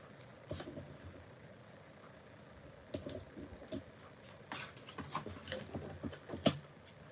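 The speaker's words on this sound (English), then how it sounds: "And I'm going to put my tape on." Craft tape being pulled and pressed on by hand, a run of soft, quick ticking and crinkling bursts that picks up after a quiet start, close and fairly faint with no talk.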